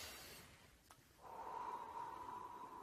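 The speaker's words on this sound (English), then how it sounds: "breathe in through your nose and out through your mouth" Breathing exercise: a faint breath drawn in through the nose, followed by a long, steady exhale out through the mouth, close and quiet with no talking.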